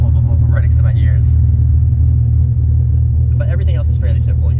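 Deep, steady Dodge Viper engine rumble fills the cabin from inside the car, a constant low drone with faint voices talking over it.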